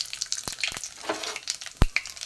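Nigella seeds (kalo jeere) sizzling in a generous pour of hot mustard oil in a wok, a steady crackling fry with sharp spits and pops scattered throughout, close and moderately loud, no talking.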